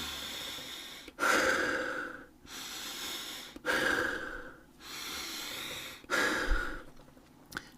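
Slow deliberate breaths, drawn in through the nose and pushed out through the mouth, repeat in a steady cycle of about three breaths, close and airy, with no talking.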